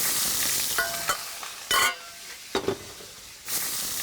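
Clams hit a hot pan with pancetta and olive oil, making a close hissing sizzle punctuated by sharp bursts of clattering and tossing as the pan is shaken, then a fresh surge of sizzle.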